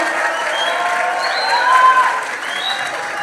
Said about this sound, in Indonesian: Beri tepuk tangan yang meriah untuk kita semua.